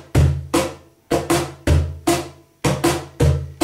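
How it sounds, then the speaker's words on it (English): An afoxe rhythm played on hand percussion without ghost notes, heard as a repeating pattern of loud, close, punchy strikes with booming low tones and bright slaps, grouped in pairs with short gaps between. "Without ghost notes, it sounds like this."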